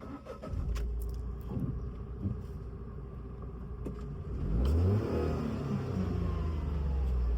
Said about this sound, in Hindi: चलिए गाड़ी स्टार्ट कीजिए फिर से